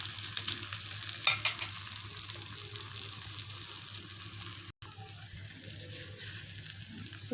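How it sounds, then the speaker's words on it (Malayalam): Masala wheat dosa cooking on a hot pan, a steady close sizzle and crackle of frying batter with a brief scrape near the start, continuing alone without voices. "അപ്പോൾ നമുക്ക് ഈ ദോശ ഇച്ചിരി ഒന്ന് വെന്ത് കിട്ടണം."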